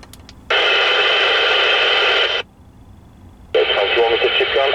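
A PNI HP6500 CB radio receiving on AM gives two loud, close bursts of static-edged transmitted speech separated by a quieter squelch gap.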